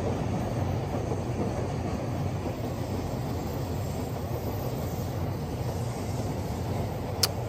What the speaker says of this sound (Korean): 이렇게 기차 지나가는 거 열차